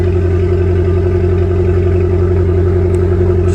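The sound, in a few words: Abarth 595 car engine running after starting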